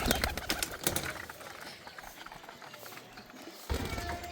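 Soft cooing of pigeons close by, mixed with wing flutters and faint shuffling, fairly quiet with a brief louder burst near the end.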